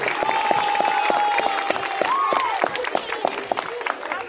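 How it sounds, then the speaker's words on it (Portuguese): Audience applause for an adult cosplay contestant at a Bon Odori festival, a burst of crowd clapping with a few whistles over it, thinning out near the end. "Palmas para o Saulo de Pion"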